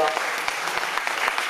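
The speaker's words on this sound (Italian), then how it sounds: "Lo chiamo sul palco e lo accogliamo con un applauso." An audience at an evening event in Bussolengo, Italy, applauds as a writer is welcomed on stage. The clapping is dense and continuous, with a few sharper individual claps standing out through the brief stretch.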